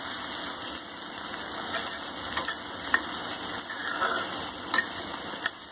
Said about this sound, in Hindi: सबको गोल्डन ब्राउन होने तक भूनेंगे घी में अच्छे से।